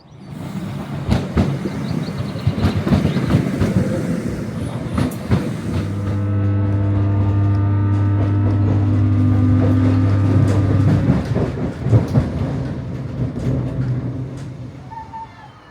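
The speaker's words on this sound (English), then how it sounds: "we are waiting for our next train, which is running about 3 minutes late" A ScotRail train pulls into a station platform on a branch line near Loch Lomond, rumbling and clattering close by, with a steady droning hum of braking and idling through the middle before wheels click away.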